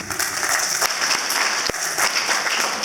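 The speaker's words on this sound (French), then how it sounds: "je demande encore à l'assistance de l'applaudir" A crowd claps steadily and fairly loudly throughout, a dense continuous applause with no pauses.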